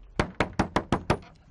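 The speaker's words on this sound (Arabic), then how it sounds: "افتح الباب يا أبو الخير افتح" Knocking on a wooden door in a 1994 Omani TV drama, six sharp evenly spaced raps in quick succession, close and loud with no voices over them.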